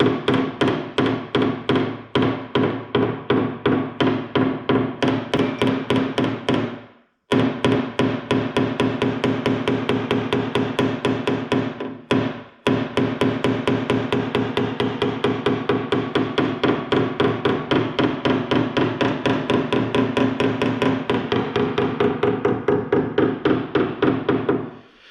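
A paintless dent repair hammer taps rapidly and steadily on the metal around a dent on a Pontiac Solstice body panel, a dense run of close, crisp knocks with two brief pauses.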